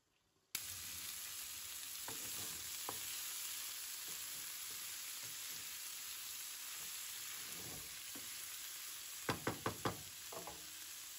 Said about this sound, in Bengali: তো এই যে আমি ফুলকপিটা হালকা একটু তেলে ভেজে নিলাম